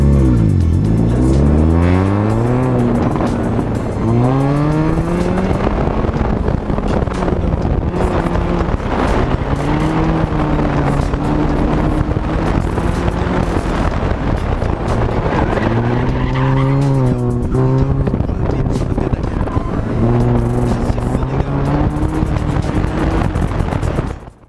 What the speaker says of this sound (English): Minis are popular autocross cars